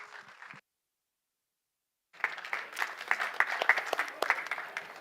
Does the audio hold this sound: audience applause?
yes